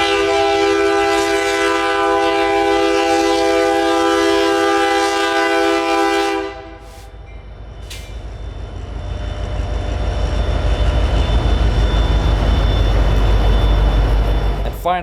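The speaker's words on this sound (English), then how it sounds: "This really goes to show you how long these trains are." A long freight train in central Florida blasts a loud sustained horn, then its heavy cars roll past close by with a steady rumbling clatter that builds and continues.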